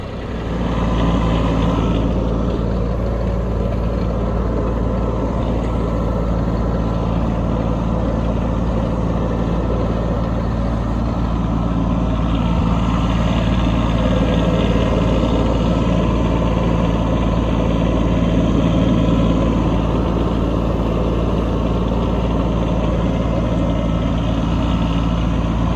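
A Kubota tractor runs steadily while its blade plows snow off gravel after an Iowa snowstorm. Its diesel engine gives a loud, continuous low rumble and drone that stays nearly even throughout, close by, with no talking.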